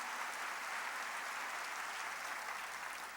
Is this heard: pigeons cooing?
no